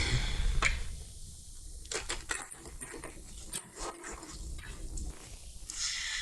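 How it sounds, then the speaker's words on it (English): A couple of quick shuffles of a large tarot deck, heard as dense, papery riffles and taps in bursts, close and fairly quiet, with no talking. "So on to the Rethink deck, a couple quick shuffles, and..."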